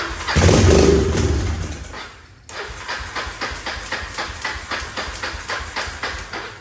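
A Kawasaki four-wheeler engine cranks over and over without catching, in a steady rhythmic run of starter pulses after a louder burst at the start; the machine smells of bad gas and likely needs a carburetor rebuild.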